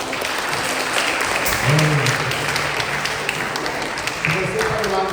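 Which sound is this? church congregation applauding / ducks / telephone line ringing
church congregation applauding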